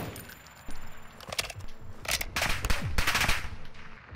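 Gunfire in Modern Warfare II sounds as sharp bursts of automatic shots, some near and loud and others further off, clustered in rapid volleys over a background of game noise, with no voices.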